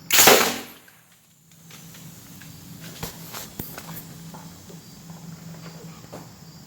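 A 110 psi air cannon fires with a single loud, sharp blast at the start, followed by quieter rustling, scattered clicks and faint movement sounds.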